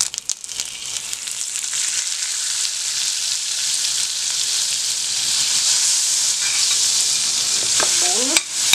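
A spoonful of margarine melting in a little oil in a pot, beginning with a few clanks and then swelling into a loud, steady sizzle that continues close by, with a brief scrape near the end and no voices.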